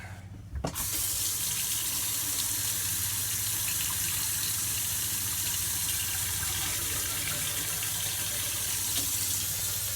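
Hot water gushes steadily from a tap after a brief start, a constant loud rushing stream filling a vessel with no talking.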